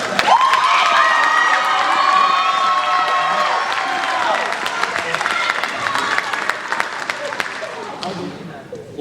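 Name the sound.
audience applause and cheering for seniors at school band concert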